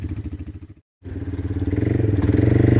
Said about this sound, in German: Gib Gas, Corinna!